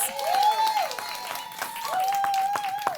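An audience at a Diageo Bartistry mixology competition claps for three participants, a short burst of applause blended with a sustained tonal hum and faint background voices.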